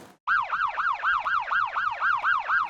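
A police siren wails in a steady repeating rise-and-fall cycle, loud and close, sounding alone after a brief silent gap at the start.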